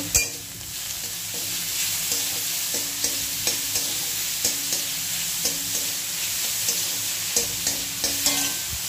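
Pointed gourd peels fry in a pan under a steady, bright sizzle while a spoon stirs them, its scrapes and taps against the pan repeating at a regular, brisk pace close by.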